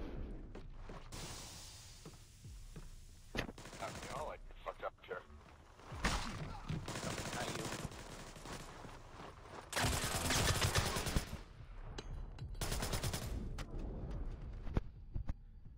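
A light machine gun in a video game fires in long, dense bursts that rattle rapidly and loudly, broken by short pauses, while a person talks over the shooting.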